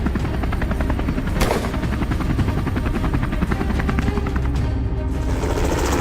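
Helicopter flying during a hog hunt on a Georgia farm, its rotor beating in a steady, loud, continuous chop with a brief swell partway through; no voices.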